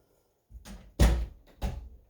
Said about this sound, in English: I'm going to go ahead and shut this door.